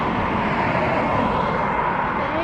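An Aer Lingus airliner at Dublin Airport gives a steady, sustained engine roar that stays loud and even throughout, with no talking over it.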